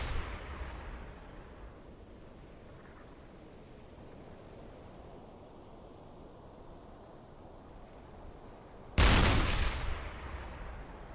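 A submarine deck gun fires in the naval game UBOAT, one sudden heavy boom near the end that rolls off into a fading roar, after a long stretch of low rumbling sea ambience.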